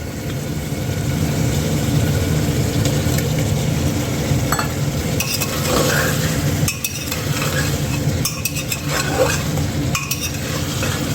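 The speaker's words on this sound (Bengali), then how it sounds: "মাংসটা আমি এখন কষাচ্ছি।" Mutton browning in a pan for a curry, with steady frying hiss, stirring scrapes and occasional utensil clinks against the pan, close and continuous with no talking.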